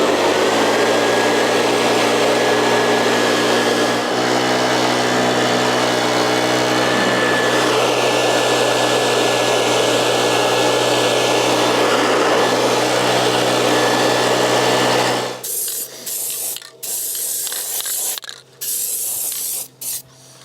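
A blower blows wood chips off fenders in a garden. It gives a steady, loud rushing whine for about fifteen seconds, then cuts into short bursts separated by pauses.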